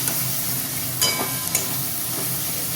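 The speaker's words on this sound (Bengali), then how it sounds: "পেঁয়াজটা লঙ্কাটা আমি দিয়ে দেবো একসাথে ভেজে" Sliced onion and green chilli fry together in a pan with a steady, close sizzle, broken by a couple of brief stirring scrapes.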